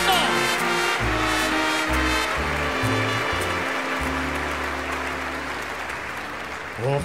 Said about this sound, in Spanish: Por favor, Navarra Arena, un aplauso bien grande para el mejor hermano del mundo.